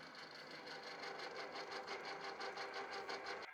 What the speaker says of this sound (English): now we have the hole drilled through both parts.